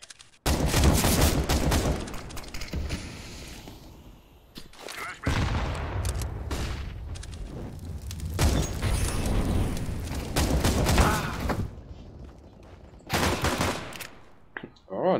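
Counter-Strike: Global Offensive firefight with dense, rapid bursts of automatic gunfire almost nonstop, loud and close, broken by a few short lulls before more shots crack out.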